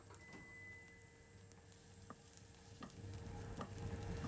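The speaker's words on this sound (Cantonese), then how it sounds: "油熱啦，我哋先落蒜蓉。" Minced garlic frying in hot oil in a wok before water spinach goes in, a faint, steady sizzle with a few soft clicks and scrapes of stirring, growing slightly louder toward the end.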